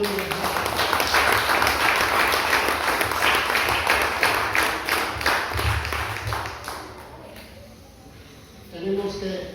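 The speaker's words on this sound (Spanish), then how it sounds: "Den un fuerte aplauso al Señor" A church congregation breaks into loud applause that carries on for several seconds, with voices mixed in underneath. The applause then fades to near quiet before a short sound returns at the very end.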